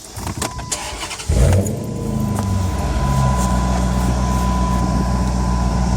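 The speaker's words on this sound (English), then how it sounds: "Then we'll start the car." A Chrysler 300C engine cranks briefly and catches, then settles into a steady, close idle hum with a faint whine running on top.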